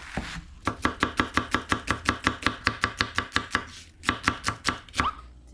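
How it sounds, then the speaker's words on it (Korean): Knife rapidly slicing two onions into thin strips on a cutting board for radish kimchi, a steady run of crisp, close, evenly spaced chops with a brief pause before a final burst. "양파 두 개입니다. 이거는 이제 채 썰어서 넣을 거예요."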